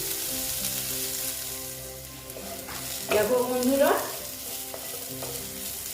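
Continuous sizzling of sliced bitter gourd frying in a pan, with a brief scraping stir midway and a short spoken phrase.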